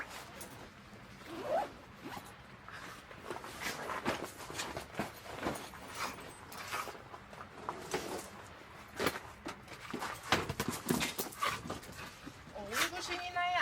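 A pet dog whimpers, yips and gives short barks beside a newly bought Tasman car-camping tent, among zipper rustles and footsteps, close and uneven, while people talk to it.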